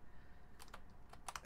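A few quiet keystrokes clack on a mechanical keyboard fitted with MT3 keycaps, sparse, irregular, close-up taps over a low background hum.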